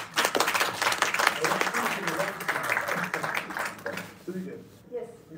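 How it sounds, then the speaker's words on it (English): Conference audience applause at a UN water session, a crowd clapping densely for several seconds before it thins out, with voices talking over it and a speaking voice emerging at the end. "An applause. They deserve it."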